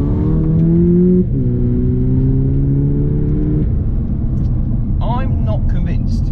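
Volkswagen Polo GTI engine in sport mode, a loud steady drone that steps up and down in pitch like gear changes, with a voice speaking briefly near the end.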